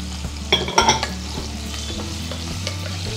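Capsicum is stirred into cauliflower and mixed vegetables frying in a pan for a mixed vegetable sabji, giving a steady close sizzle with a few louder scraping stirs near the start.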